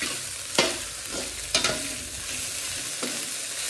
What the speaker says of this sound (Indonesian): Kita aduk lagi supaya warnanya makin cantik ya teman-teman.